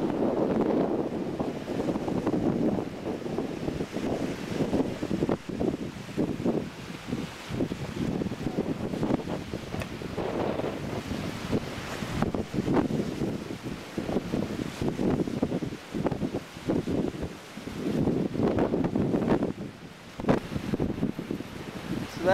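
Strong wind of about 25 miles per hour buffets a Lynx vertical axis wind turbine, a loud, continuous rushing roar with gusty surges and microphone buffeting, no voices.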